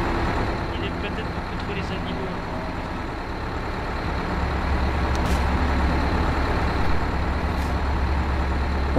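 A vehicle engine idles in a video game roleplay scene as a steady, low rumbling drone that deepens partway through, with people talking over it.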